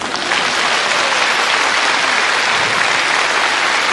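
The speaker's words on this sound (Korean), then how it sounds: "박수 한번 해주세요." A large concert audience at a show applauds the lighting crew, loud dense clapping that stays steady from start to finish.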